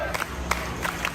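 A Florida Panthers fan crowd cheers at an outdoor watch party in Fort Lauderdale during an away playoff game in Toronto, giving a dense, steady roar with brief shouts and whoops rising above it.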